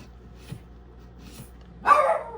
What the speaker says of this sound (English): He just kind of likes to bark at the mailman, the UPS guy